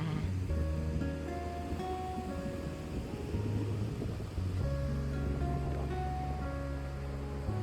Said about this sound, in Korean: 오늘 월정리 바다를 걸으며 파도를 바라봅니다. 파도는 매일 부서집니다.